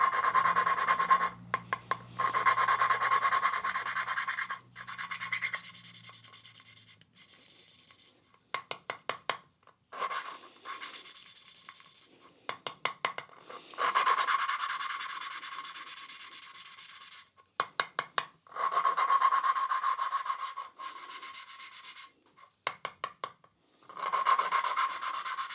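Valve on a Mini Cooper cylinder head being lapped by hand with a grinding stick and paste, a rhythmic gritty rubbing in repeated bursts with short pauses between strokes, close and dry, no talk.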